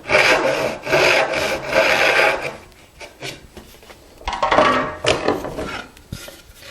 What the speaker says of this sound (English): I can now start my saw in the kerf from the previous cut